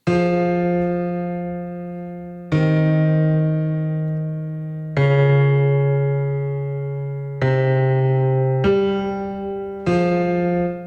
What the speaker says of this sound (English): I added some bass for the piano.